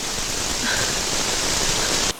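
Steady heavy rain from a Malayalam film scene hisses as a dense, even downpour, then cuts off abruptly near the end.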